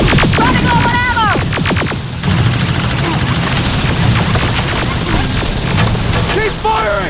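Gunfire and booming explosions from a Terminator Resistance firefight against machines, continuous and loud under shouted voices and combat chatter.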